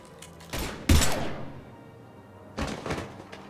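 A few heavy gunfire bursts and thumps from the sci-fi shooter Mass Effect 3, with a strong blast near the start, a quieter stretch, then another volley of shots near the end.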